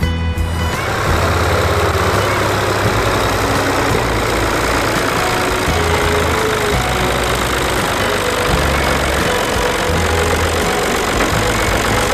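A diesel tractor engine runs steadily at a low idle, chugging and knocking continuously, loud and close with no talking.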